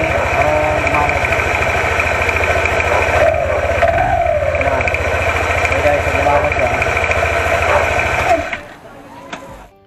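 A Yamaha NMAX V3 scooter engine runs after a CVT and drive belt cleaning, a close, loud steady idle with a buzzing drone, cutting off near the end as it shuts down.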